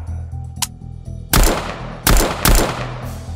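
Gunfire in a Minecraft SCP Foundation scene, loud bursts of rapid shots with pauses between them over a low humming background.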